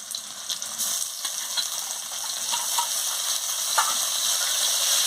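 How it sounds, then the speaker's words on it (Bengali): Ginger and garlic paste fries in a pan with a steady bright sizzle, occasional spoon scrapes and clicks punctuating it, close and fairly even in level, with no talk. "এবার আদা বাটা আর রসুন বাটা দিয়ে দিচ্ছি"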